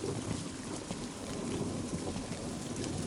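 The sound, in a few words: rain falling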